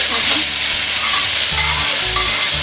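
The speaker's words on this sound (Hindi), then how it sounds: "ये हम एक साथ डाल देंगे और डालने के बाद हम इसको अच्छे से सौते करेंगे।" Fennel and coriander powder sautéing in a hot pan give a loud, steady sizzle, with a spoon stirring and scraping in repeated strokes close by.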